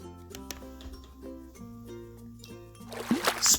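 A children's read-aloud paint splash sound effect: soft background music of sustained tones, then a brief splashy, splattering burst near the end.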